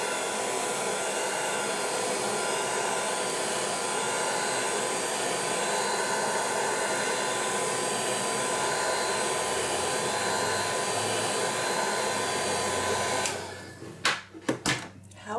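A hair dryer blows steadily while drying hair, a loud close whooshing hum held for most of the stretch before it cuts off into a few clunks and handling noises.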